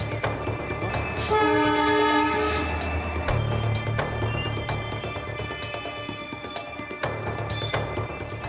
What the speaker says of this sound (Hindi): तभी पीछे से दूसरी इंजन हॉर्न बजाते हुए पहुंच जाती है